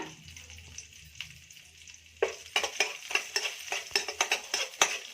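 Curry leaves and crushed garlic fry in oil for green gram and palak dal: a quiet sizzle at first, then a rapid series of close spatula scrapes and clinks against the pan over the crackling oil.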